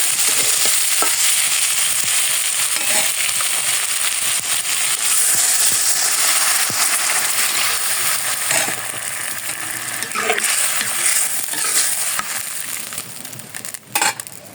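A vegetarian vegetable curry fries loudly in a pan, a dense continuous sizzle with intermittent scraping and clinks of a spatula stirring, close and steady until a few knocks near the end.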